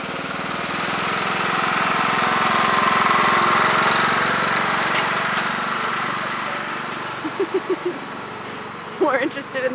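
A tractor engine drones steadily at a low rumble, swelling and fading slightly, with a few short sputters near the end.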